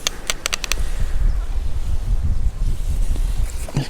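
Wind blowing across a fishing lake, a loud continuous low rumble buffeting the microphone, with a few quick clicks at the start and no talk.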